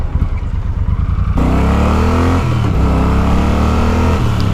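A Triumph Thunderbird Storm motorcycle engine lopes with a lumpy idle, then revs up into a strong, steady roar that dips and climbs again, loud and close with no voices.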